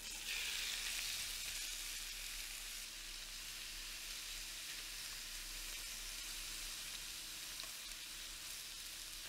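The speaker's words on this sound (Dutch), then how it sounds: "En hier gaan wij de garnalen in laten bakken." Shrimp fry in a little oil in a frying pan with a steady, dense sizzle that stays loud and even from start to finish, close up and without talking.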